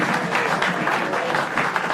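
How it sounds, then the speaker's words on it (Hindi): Studio audience applause on an escape-room entertainment show, a steady, dense wash of clapping that fills the whole stretch at an even level with no voices over it. "Big round of applause"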